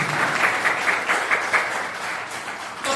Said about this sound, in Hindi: तो एक बार जोरदार तालियां होनी चाहिए संस्था की।